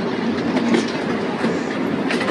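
A 100-year-old tourist train runs between Ambarawa and Tuntang, its steady rumbling roll and rhythmic clickety-clack of wheels close and continuous throughout.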